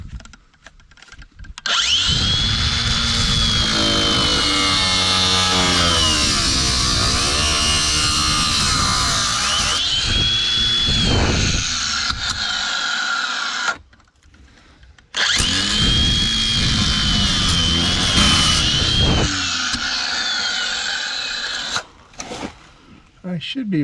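A power tool cuts through the shock absorber of an old Ford Torino, a loud close grinding whine running in two long bursts separated by a short pause, with some talk around it.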